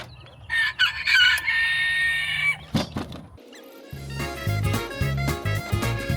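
Bantam chickens in a backyard setup cluck nearby while a rooster crows loudly in a strained call, followed by a stretch of busy clucking and chatter from the flock.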